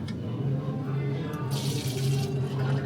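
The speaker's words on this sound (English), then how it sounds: "pour hot water." Hot water pours from a kettle for coffee, a steady hiss and splash that brightens midway as the stream hits, over a low hum of the room.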